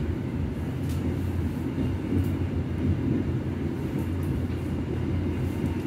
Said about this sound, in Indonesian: Perjalanan kereta api Matarmaja kali ini tiba di stasiun Ngebruk 10:02 tadi